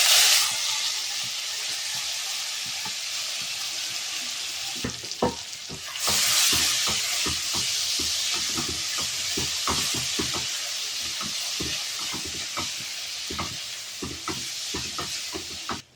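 Chopped vegetables fry in a pan over a reduced flame for a North Karnataka hasi khara. A steady, close sizzle hisses throughout, and from midway rhythmic spatula scrapes and stirring clatters join in.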